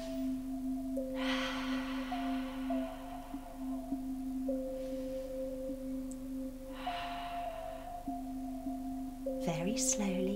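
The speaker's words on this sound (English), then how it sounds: "Let's take some lovely deep breaths." Slow deep breaths during a kids yoga relaxation: two long, soft, airy inhales and exhales, each a few seconds, over a steady music hum and gentle background tones.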